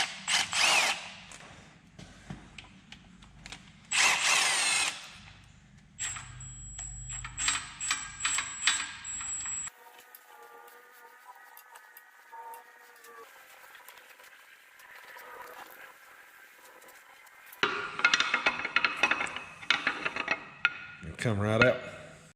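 A power tool whirs in short bursts while removing the six 8 mm bolts holding the rear main seal on a Mustang GT 4.6 engine during a rebuild, with metallic clinks and ratcheting between runs at moderate level.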